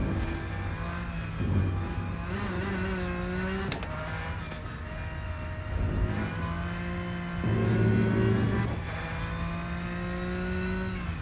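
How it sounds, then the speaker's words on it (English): In the Rennsport racing game, a Porsche engine revs up and down repeatedly with a mid-pitched, harmonically rich tone. Quick throttle blips and shifts break into a continuous drone. "this Porsche sounds really nice"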